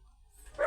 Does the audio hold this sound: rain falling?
no